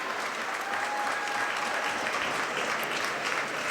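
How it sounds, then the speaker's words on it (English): A Tuesday night crowd at Ritter Arena applauds steadily throughout a high school ice hockey semifinal between Hill-Murray and Eden Prairie, with dense, even clapping and no break. "Gets a nice hand from a pretty decent Tuesday night crowd here at Ritter Arena"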